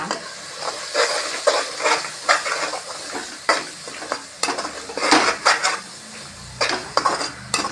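A spoon stirs spices and homemade garam masala in a pot for seeraga samba chicken biryani, giving close, repeated scraping and clinking strokes over a steady sizzle, with no talking.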